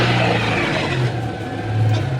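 A vintage Citroen car pulls away in first gear, its engine droning loud and close with a steady, slightly rising growl and no talk over it.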